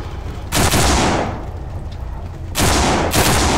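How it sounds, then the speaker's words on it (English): Gunfire in the zombie shooter No More Room in Hell, two loud broadband bursts of rapid shooting with a sustained rumbling din between them, no voices. "I hear shooting."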